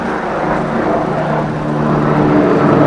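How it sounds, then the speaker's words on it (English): A helicopter flies overhead during a walk in Cheltenham, its steady droning rotor and engine noise loud and continuous throughout, with no talking. "There's a chopper somewhere. Oh yeah, just up there."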